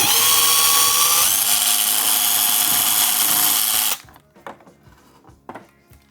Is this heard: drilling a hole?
yes